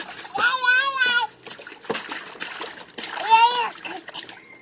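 A small child squeals and babbles while splashing water in bursts during a bath, playful and close.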